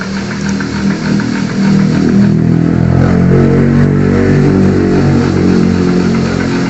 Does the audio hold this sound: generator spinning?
yes